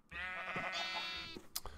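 A sheep bleats in Minecraft, a single long wavering cry that stretches over more than a second, close and clear, followed by a few faint soft game sounds.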